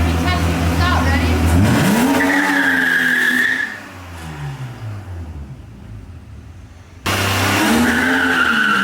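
A BMW E36 328i drift car with a welded differential skids with loud tire squeal and a revving engine, fading as it moves away, then suddenly loud and close again.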